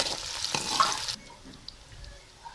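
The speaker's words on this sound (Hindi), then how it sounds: "अब मैंने घी डाल के प्याज को ब्राउन होने के लिए रख दिया है।" Onions browning in ghee in a home kitchen pot, a soft steady sizzle with a brief stirring scrape near the start, moderately close and with no talking.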